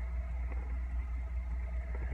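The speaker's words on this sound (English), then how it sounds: "A bus just pulled up." A bus pulls up nearby on a cross-country trip, a steady low engine rumble that stays constant and fairly loud throughout, with no voices.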